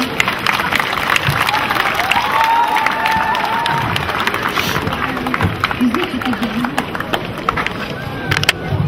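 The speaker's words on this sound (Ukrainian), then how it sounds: "Оплески, де діти оплески?" Audience applause at a school anniversary celebration, a steady broad wash of clapping from a crowd with scattered louder claps and faint voices underneath.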